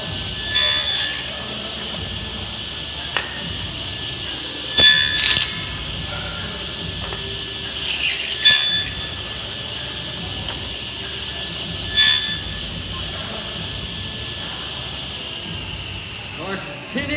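Hand saw cutting tenon shoulders into a wooden apron set on edge, heard as several separate bursts of sawing strokes spaced a few seconds apart, fairly close against a quiet background.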